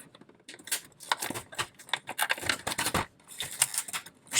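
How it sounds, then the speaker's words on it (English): Scissors snip repeatedly and crinkle through plastic packaging around a diecast toy car, close and loud, in irregular bursts of sharp cutting and rustling with brief pauses between them. "I have to get a scissors"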